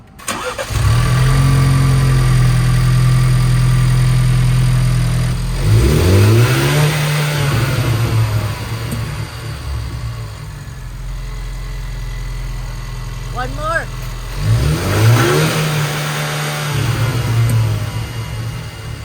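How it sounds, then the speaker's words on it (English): A Ford Bronco engine with Roush Performance upgrades and MBRP exhaust cranks and catches on a cold start, idles with a deep steady rumble, then revs sharply twice. A voice speaks briefly between the revs. "So we are going to do a cold start."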